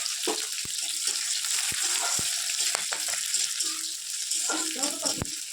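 Chopped onion, green chilli and garlic frying in a pan give a constant close hiss and sizzle, broken by occasional sharp taps of a spoon, with some background kitchen noise.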